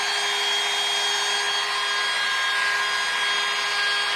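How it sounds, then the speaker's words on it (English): A screw gun drives a screw into drywall, giving one steady, loud, high-pitched whine that holds for a few seconds, with no voices. "clutch will kick in and it will drive the screw into the wall. So it's kind of loud."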